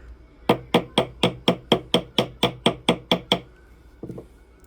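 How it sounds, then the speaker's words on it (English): A ball peen hammer taps a silver ring thirteen times in a quick, steady rhythm, each strike crisp and ringing, and two softer taps follow after a short pause. "let's grab our ball peen hammer. We're going to do a little bit of tapping"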